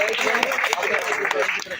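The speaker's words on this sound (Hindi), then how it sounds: "जोरदार तालियां हो जाए" Loud applause from an audience at a book launch at a press club in Jaipur, dense continuous clapping with a few sharper claps, mixed with talking voices throughout.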